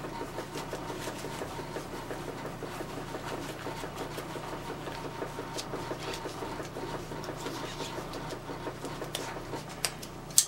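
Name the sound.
washing machine running in the room above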